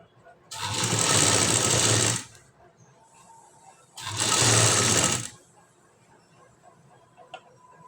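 A sewing machine stitching a blouse lining, running in two loud, steady bursts of rapid mechanical chatter, each lasting one to two seconds, separated by quiet pauses with faint handling sounds.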